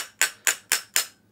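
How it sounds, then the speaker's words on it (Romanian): Four evenly spaced sharp metallic taps from a light hammer seating a bearing into a motorcycle crankcase, close and clear, each ringing briefly and quickly fading. "puteți să bateți cu ajutorul unui ciocan ușor."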